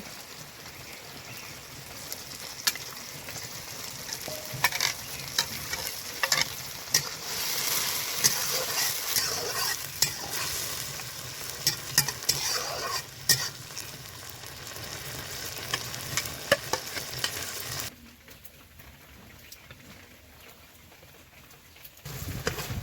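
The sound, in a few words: shrimp with turmeric and salt sizzling in spices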